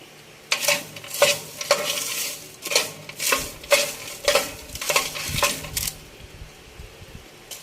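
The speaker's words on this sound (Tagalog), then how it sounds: "Ang ating peanut, walang mantika, kaya sa oven lang natin niluto." Peanuts roast dry without oil, stirred in a pan with a rhythmic series of sharp scraping, rattling strokes, roughly a dozen in quick succession before falling quiet.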